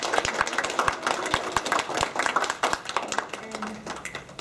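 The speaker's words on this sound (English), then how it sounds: "let's go ahead and give them a round of applause" An audience at a student conference gives a lively round of applause after a career advice panel, with scattered, uneven claps that thin out toward the end.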